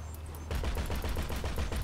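Rapid automatic gunfire in GTA V Online on PC, a steady run of loud, closely spaced shots that starts abruptly after a short quiet moment and keeps pounding without a break.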